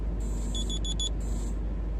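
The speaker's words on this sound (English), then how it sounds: "that's my alarm to do it, so I'm going to do it right now" A repeated electronic alarm beeps in a short rapid burst of four tones after a sustained tone, fairly faint over a low steady background hum, with no talk.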